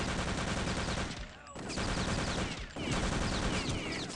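Rapid automatic gunfire from an SMG and other weapons in a Return to Castle Wolfenstein 3-on-3 match rattles in dense bursts with two brief pauses, loud and close.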